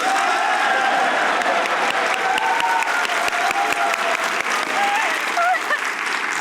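A studio audience claps steadily for several seconds, a dense and loud wash of hand claps with a voice faintly underneath.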